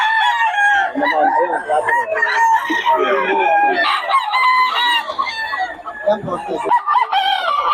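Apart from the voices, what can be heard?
Sweater Hennie gamefowl rooster crowing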